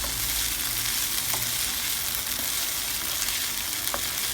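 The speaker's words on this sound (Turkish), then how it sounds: "Böyle iyice kavuracağım bir 5 dakika" Baldo rice toasts in a pan with a steady, dense sizzle and faint occasional stirring clicks, close and continuous throughout.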